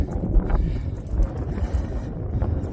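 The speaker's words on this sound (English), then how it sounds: "the wind's even starting to pick up." Steady wind gusting across open sand dunes, a continuous low rumble of microphone buffeting that rises and falls without a break and stays loud throughout.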